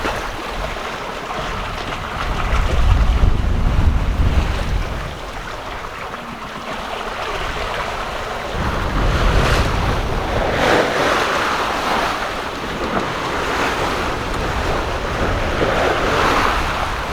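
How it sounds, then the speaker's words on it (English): Wind and ocean waves on an offshore Pacific sailing passage, with about 12 knots of breeze from the quarter, roar and wash continuously, with heavy surging swells and buffeting gusts on the microphone, and no voices. "We've got not too bad a wind."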